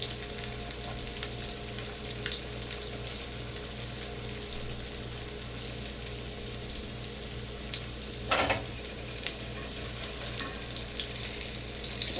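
Homemade fish cakes frying to a crisp in a pan, a steady close sizzle and crackle of hot oil with one brief louder scrape partway through.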